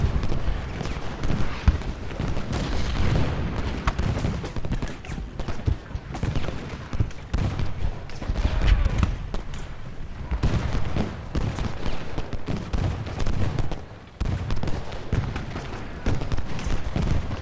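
Massed musket volleys from Civil War troops in the strategy game Ultimate General Gettysburg rumble continuously, with overlapping gunfire crackling and thudding in a dense, sustained battle din and brief dips between salvos.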